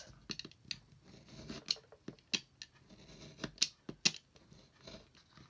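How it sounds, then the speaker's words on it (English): Scissors cut through junk journal book-page paper along a marked line, giving a run of crisp, close snips and scrapes in an irregular rhythm. "So I'm going to go from this mark here down to the line and cut that off"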